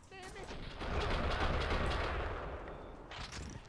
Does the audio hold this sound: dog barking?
no